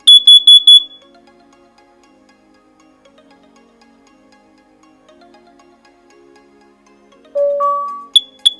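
A Google Nest Protect smoke alarm sounds during a test with short, loud, high electronic beeps. A long quiet stretch with faint tonal chimes follows, then a louder two-tone chime and another brief beep, heard close in a room with no talking.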